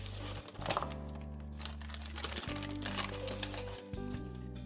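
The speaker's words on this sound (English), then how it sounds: "I'm going to flip the sponge cake over on the cutting board so that I can remove the parchment paper." Parchment paper peeled off the underside of a flipped sponge cake on a cutting board, close crinkling and crackling with uneven tearing bursts, quiet and without talking.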